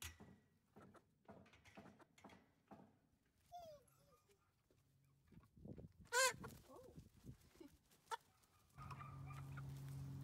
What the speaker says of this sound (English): Let's go see the chickens.